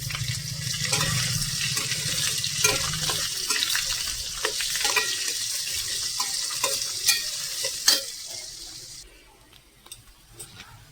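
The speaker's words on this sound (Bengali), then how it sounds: "চলো পেঁয়াজটাও দিই, আলুর সাথে একসাথে ভাজা হয়ে যাবে" Potatoes and onions frying together in a home kitchen pan give a steady close sizzle with intermittent stirring scrapes and clinks, tapering off near the end.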